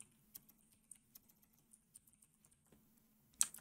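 Quick, light keystrokes on a computer keyboard while entering web page layout code, scattered irregular clicks near and soft in a quiet room, with a sharper louder tap at the end.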